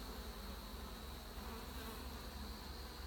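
Honeybees swarming over an opened, struggling hive, a dense steady buzz of many insects close by, faint and even with no voices.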